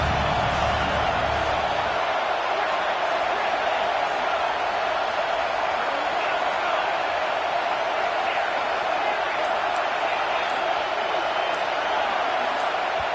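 A stadium crowd in a college football video game holds a steady, dense roar from start to finish, with a deeper rumble in the first couple of seconds.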